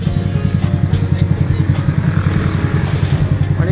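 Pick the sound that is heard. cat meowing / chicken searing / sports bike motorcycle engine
sports bike motorcycle engine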